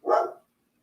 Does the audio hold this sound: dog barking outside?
yes